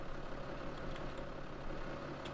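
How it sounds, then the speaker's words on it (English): A tractor engine idles steadily in Farming Simulator 17, a low continuous mechanical drone that runs evenly and alone throughout, fairly quiet with no voices over it. "Well, that's the tractor."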